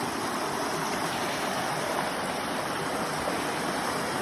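Stream water rushing around huge boulders where the channel narrows, a loud, steady broadband wash of flowing water close by.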